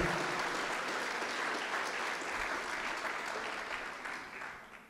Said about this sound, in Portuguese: Pode aplaudir ao Senhor, que é digno